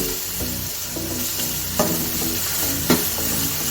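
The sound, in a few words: spices frying and being stirred in a pot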